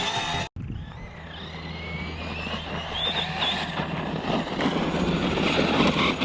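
A HoBao MTX RC truck driving at full throttle, a whining electric motor that rises and falls as it runs past, moderately distant over outdoor background after a brief cutout near the start, no talking.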